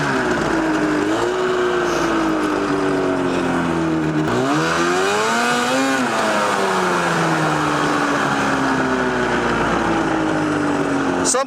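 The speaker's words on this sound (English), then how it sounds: "the exhaust is right there and it's making popping noises" A go-kart fitted with a snowmobile engine revs and drones loudly close by, its pitch rising and falling through several surges under a constant roar, though distinct exhaust pops are not clearly picked out.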